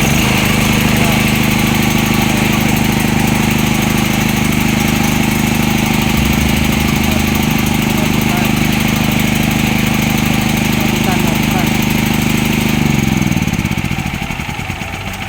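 A Krisbow 5500 petrol generator is started from a control panel and runs roughly, producing a loud, steady, rattling engine drone that holds throughout and eases down slightly at the end, with no talk over it.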